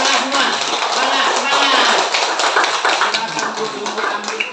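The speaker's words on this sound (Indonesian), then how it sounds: "Tepuk tangan untuk semuanya." Students in a classroom clap together in a dense, continuous burst of applause that fills the whole stretch, close and loud, with voices mixed in.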